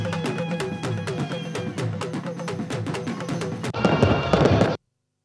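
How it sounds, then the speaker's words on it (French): Huge fireworks bursting over a New Year celebration in Lomé, Togo, a rapid run of loud cracks and bangs crowding one another, swelling into a denser, brighter barrage near the end before stopping abruptly. "Des gigantesques feux d'artifice pour accueillir la nouvelle année."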